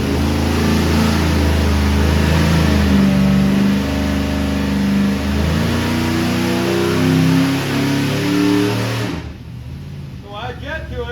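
A carbureted four-barrel engine runs on a dyno, loud and close with a rough, wavering idle, then cuts off abruptly near the end, leaving a quieter background where voices are heard.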